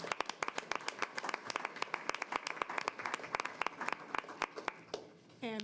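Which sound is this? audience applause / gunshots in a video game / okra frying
audience applause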